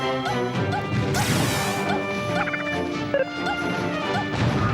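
Down smash attacks landing in Super Smash Bros. Ultimate during a tournament match, with a loud crashing hit among rapid game effects, chimes and background music, all dense and continuous.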